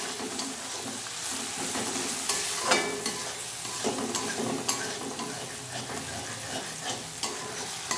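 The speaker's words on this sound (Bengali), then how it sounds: "তো পেঁয়াজটা প্রায় নরম হয়েই এসছে, তাও আমি আর একটু 2-3 মিনিট একটু নাড়াচাড়া করে নেব।" Softened onions frying and being stirred in a pan, a steady sizzle with scraping stir strokes and occasional utensil knocks throughout, close and alone with no talking.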